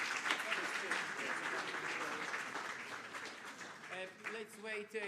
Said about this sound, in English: let's finish that with a round of applause for our speaker.